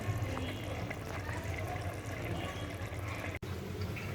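Tap water running steadily near a sink while rohu fish is soaked, a continuous splashing wash of sound with a brief break near the end.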